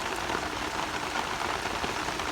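Unseasonal rain falls on farm fields in Porbandar, a dense, steady hiss of drops that stays even and continuous throughout, with no talk.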